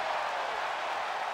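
Crowd roaring during a wrestling video game match between Goldberg and Rekha, a steady broad wash of cheering and applause, loud and unbroken, with no distinct voices.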